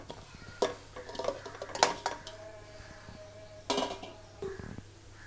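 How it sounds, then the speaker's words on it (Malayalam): Dried soya chunks tumble into a pressure cooker in a home kitchen, giving a few scattered light clatters and taps against the metal pot, close and fairly quiet, with soft handling noises between them and no talking. "ഞാൻ ഒരു കുക്കർ വെച്ചിട്ടുണ്ട്, അതിലേക്ക് സോയ ഇട്ട് കൊടുക്കാം"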